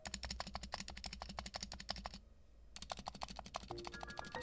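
Rapid, close typing on a Razer Huntsman V2 TKL keyboard with clicky, rattling keystrokes and loud stabilizer wire rattle in quick succession, pausing briefly before resuming.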